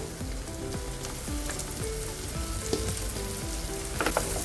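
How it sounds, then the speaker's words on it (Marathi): Onion sautéing in a hot pan for a street-style veg roll, a steady crackling sizzle with faint stirring scrapes, close and continuous with no talk. "आधी कांदा घालूया"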